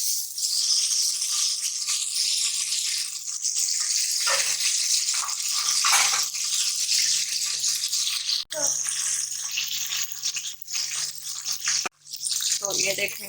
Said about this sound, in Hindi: जब हमारा घी गर्म हो चुका है, इसके अंदर हम प्याज ऐड करने लगे हैं।